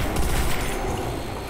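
Rapid gunfire from Call of Duty: World at War Zombies on the Nacht der Untoten map, a dense continuous burst of automatic fire, loud and close throughout, with no talking.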